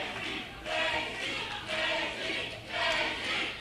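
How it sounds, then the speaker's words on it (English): Wrestling crowd at an NWA Wildside event cheering behind Daizee Haze during her match against Patrick Bentley, a distant arena roar swelling in several waves with shouts mixed in. "Crowd behind Daizee Haze."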